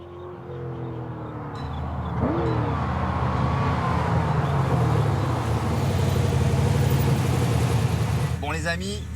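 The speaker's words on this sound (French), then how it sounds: "il est temps de faire causer le V8" Ultima GTR V8 engine running steadily near a circuit, a continuous mid-pitched drone with a rise in revs near the end, heard under someone talking throughout.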